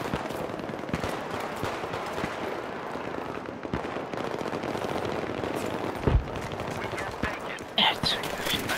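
Pistol shots and scattered gunfire in a Battlefield 3 match on the Markaz Monolith map in Scavenger mode pop irregularly at moderate distance, with a couple of sharper close bangs near the end. Players talk quietly over the shooting.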